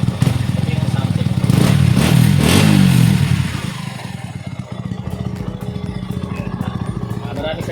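A Suzuki Gixxer motorcycle styled after the GSX 1000 revs hard through its exhaust pipe for a few seconds, then drops back to a quicker, lighter idle putter with some clatter. The sound is close and loud.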